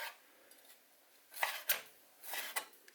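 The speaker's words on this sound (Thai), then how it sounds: "มะนาวก็จะหั่นเตรียมไว้ก่อนค่ะ" A knife slices through lime for a Thai pork and cassia-leaf dish, giving a few crisp, quiet cuts spaced about a second apart, with no talking.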